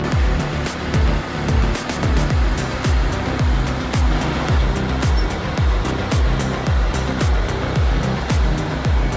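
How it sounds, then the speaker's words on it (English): Heavy tracked logging truck grinding down a rocky slope, its engine and clanking tracks pulsing in a steady, loud rhythm of roughly one thump per half second, with broad rumbling noise throughout. "the truck finally conquers the rocky stretch and makes it down the slope safely"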